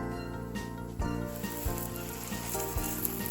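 A giant beef burrito sizzles steadily on a hot skillet, a continuous close frying hiss with a few soft pops and crackles.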